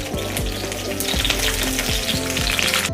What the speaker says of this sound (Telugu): ఈ వంకాయల్ని మొత్తం ఇలా అన్నీ వేగనిచ్చుకోవాలి.